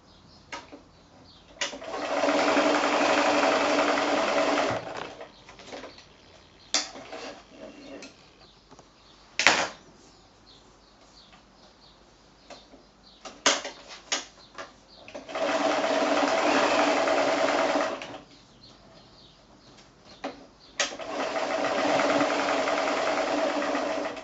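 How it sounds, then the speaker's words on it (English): A sewing machine running a quarter-inch seam down each side of fabric pieces, in three separate bursts of steady whirring stitching separated by quiet handling clicks and pauses. "I'm going to machine 1/4 inch seam down either side"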